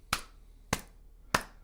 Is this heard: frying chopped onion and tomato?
no